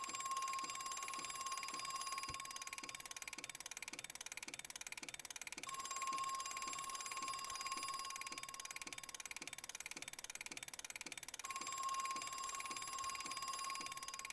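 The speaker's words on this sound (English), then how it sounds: "I need somebody to make a mod that just disables the fucking phone" Telephone ringing in the Crow Country video game, a repeating electronic ring tone in steady bursts over a constant background hum, loud and continuous without speech.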